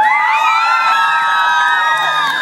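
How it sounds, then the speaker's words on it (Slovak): A crowd at an evening dog-walkers' march and concert in Bratislava cheers and whoops loudly and steadily on its own, with high shouts and whistles layered over a dense, continuous roar. "privítajte ho, prosím, potleskom, má to rád"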